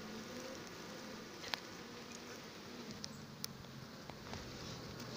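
Honey bees buzz around an open beehive during a frame inspection, making a constant soft, even hum with a few brief ticks and taps over it, heard up close but quietly, with no talking.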